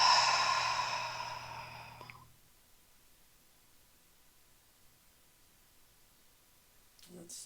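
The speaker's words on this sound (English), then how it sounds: "Exhale through an open mouth." A long, deep open-mouthed exhale during a yoga session, a breathy rush that starts loud and close and fades out over about two seconds, followed by near silence and a faint voice at the end.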